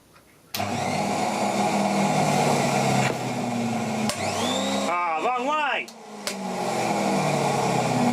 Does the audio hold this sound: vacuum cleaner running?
yes